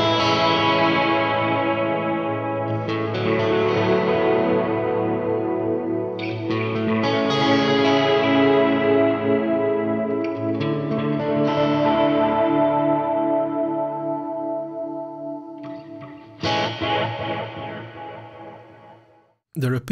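Guitar through a Line 6 POD Go modeled EHX Memory Man delay set to quarter notes, with chords and notes ringing out and repeating in even echoes that swell and fade, loud and close.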